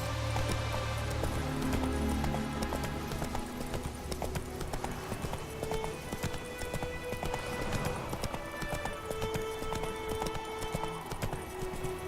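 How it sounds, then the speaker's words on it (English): Horse hooves clip-clopping steadily in The Witcher 3, a continuous even trot under ambient game sound. "Whoa there, Roach."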